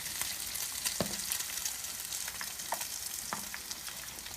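Quesadilla sticks deep frying in hot oil, a continuous soft sizzle and crackle with a few faint pops, steady and moderately quiet, no voices.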